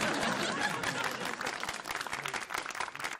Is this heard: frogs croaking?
no